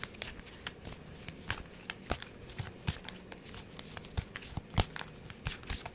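Affirmation cards being shuffled by hand, a close, quiet run of crisp riffling snaps and soft flutters in an irregular rhythm, with no talking over it.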